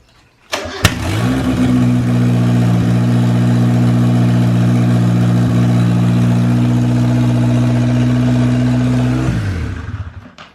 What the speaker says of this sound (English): That sounds like a turbo MIATA already